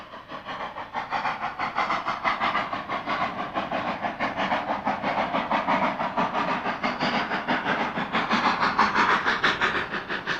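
Cumbres & Toltec scenic railroad steam train running along the track near the summit around Windy Point, a steady rumbling, hissing roll with faint rhythmic clatter, continuous and fairly close throughout, no voices.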